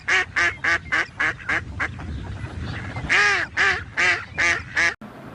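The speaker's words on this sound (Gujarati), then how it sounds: "બતકનો અવાજ કેવો હોય?" A duck quacking, a rapid run of loud, nasal quacks close by, then a brief lull and a second burst of harsher, drawn-out quacks before an abrupt cutoff.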